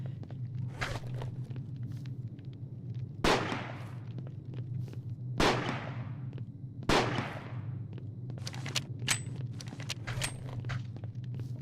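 AK rifle fire in a first-person shooter game demo, several sharp, loud single shots spaced a second or two apart over a steady low hum, with fainter clicks and handling noises between them.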